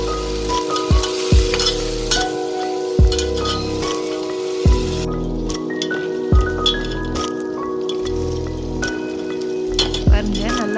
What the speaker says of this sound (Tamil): தக்காளி எல்லாம் நல்லா மேஷ் ஆகி வதங்குற அளவுக்கு வதக்கி விட்டுக்கோங்க